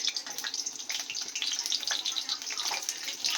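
Pieces of pointed gourd (potol) fry in hot oil, giving a quiet, steady crackling sizzle with dense spitting pops throughout.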